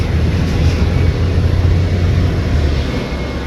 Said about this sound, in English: As you can hear the planes taking off